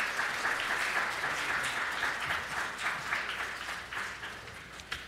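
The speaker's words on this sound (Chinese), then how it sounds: "我们拍手来鼓励" A church congregation applauds together during an anniversary thanksgiving service, a steady, dense wash of clapping that holds for several seconds at moderate distance.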